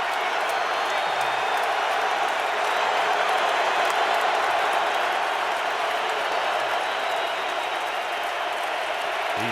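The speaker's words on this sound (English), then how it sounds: "Crowd imploring its defense to hold him" Home crowd at an NFL game between the New England Patriots and Indianapolis Colts roars for the Colts defense, a loud, sustained wash of stadium cheering that never lets up.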